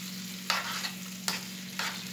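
Creamy scrambled eggs with melted cheese and ham are stirred in a pan over a faint steady sizzle, with three or four soft scraping strokes and no talk.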